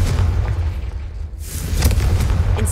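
Confringo blasting spell explosions in the Hogwarts Legacy video game: a continuous low rumbling boom with a brief lull midway, then a renewed burst of blast energy and crackling debris, loud and close.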